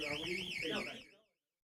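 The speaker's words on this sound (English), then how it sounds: "We're getting an alarm." An alarm sounds inside a building, a warbling electronic siren tone that rises and falls in a steady sweep, with talk underneath, before it cuts off abruptly.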